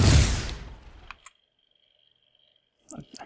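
A single explosion in the Xbox Live indie game Outpost Defender Online, a loud booming burst that fades away over about a second, followed by near silence and a few faint clicks.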